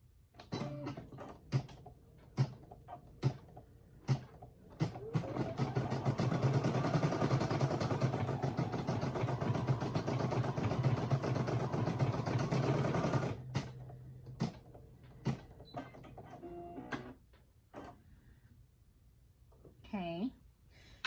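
A Brother SE1900 embroidery machine stitches a design, a steady mechanical buzz of rapid needle strokes running for about eight seconds in the middle, with short clicks and a person talking before and after.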